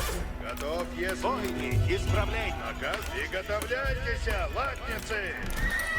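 Horses neigh and whinny repeatedly over clip-clopping hooves in the Age of Empires IV strategy game, the calls layered and busy against constant game background noise.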